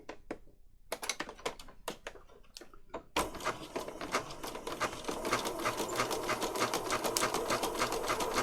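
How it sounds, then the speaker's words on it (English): A sewing machine runs a zigzag stitch across a paper patchwork tag of mixed thicknesses including card, opening with a few sharp taps and clicks before settling into a steady, close, rapid whirring. "I'm just going to do a zigzag stitch right across here"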